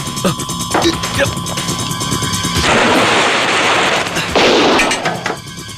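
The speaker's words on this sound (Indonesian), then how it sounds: "Kedengarannya seperti suara senjata api." Gunfire in an action film scene, a loud nearby burst of rapid shots with heavy booming cracks and a dense fusillade-like roar that builds and then cuts, with no talking.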